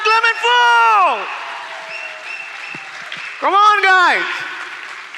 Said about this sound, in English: can we have a huge round of applause for Anita and Clement Fu?